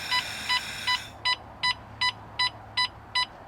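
An explosive gas detector in a van sets off its alarm as a bucket fills with propane, giving a bright electronic beep repeated evenly about three times a second, clear and close over a low background hum.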